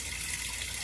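Water runs steadily down a drain line after toilets are flushed during a Caribbean plumbing job, a continuous even rushing and gushing that stays close and moderately loud with no voices.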